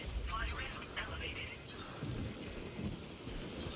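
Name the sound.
rain and thunder in Death Stranding 2 video game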